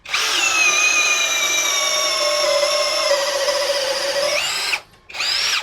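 An APR AP34+ cordless impact drill runs steadily at speed 2, driving a 20 mm auger bit, with a loud sustained whine that holds for nearly five seconds, cuts out briefly, then spins up again.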